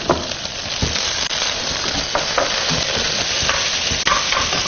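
Shredded pork stir-fries with green peppers in a hot wok just after cooking wine goes in, sizzling steadily while a utensil repeatedly scrapes and clacks against the pan.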